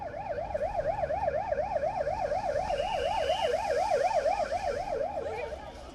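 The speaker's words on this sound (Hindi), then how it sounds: "सियोल के इटावन इलाके की सड़क पर हर तरफ एम्बुलेंस के सायरन गूंज रहे थे।" Ambulance sirens echo along a street in Itaewon, Seoul, a rapidly warbling wail rising and falling continuously, with a second siren tone joining midway over distant traffic rumble.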